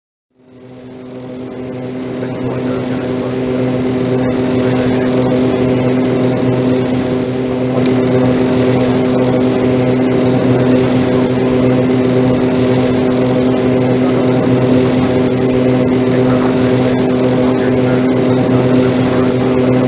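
DHC-8 turboprop airliner taxiing, a loud, steady engine drone with strong tonal hum that starts abruptly and holds evenly for the whole stretch.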